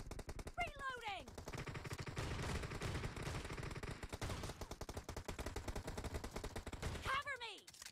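Rapid shotgun blasts from an M1014 in the PUBG Mobile video game, fired in a dense, continuous stream of close, punchy shots, with short whooshing effects at the start and end.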